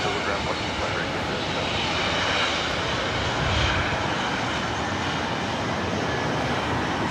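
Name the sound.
Air Canada A320 jet aircraft at LAX airport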